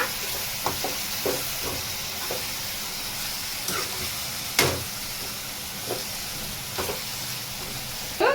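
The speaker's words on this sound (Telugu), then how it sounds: "మనకు మటన్ కీమా కూడా కొద్దిగా పచ్చివాసన పోయేంత వరకు బాగా కొద్దిగా వేగనిద్దామండి" Mutton keema sizzles quietly in a pan, with a faint hiss throughout and a few scattered scrapes and knocks as it gets stirred.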